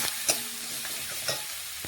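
Ginger, cumin, garlic and green chilli paste being stirred into frying onions, a constant close sizzle punctuated by a couple of spatula scrapes.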